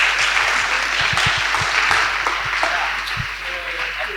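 An audience in a lecture-hall style venue applauds the welcome speakers at a public meeting, continuous clapping that slowly fades over a few seconds with a low hum underneath.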